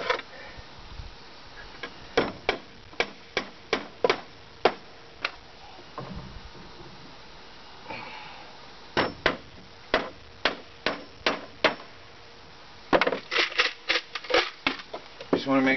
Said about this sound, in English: Just putting one nail in the middle of each board to keep it in place.